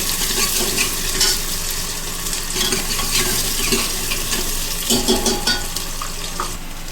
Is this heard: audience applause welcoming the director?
no